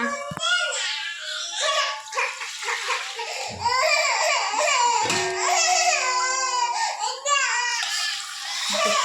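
A small child cries and whines in high, wavering bursts through most of the stretch, close by in a home kitchen where dal is being cooked, while someone talks over it.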